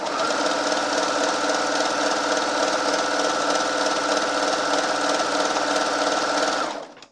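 A sewing machine trims the edge while stitching a rolled hem on silky satin, running steadily at close range with a fast, even whir for about seven seconds before stopping.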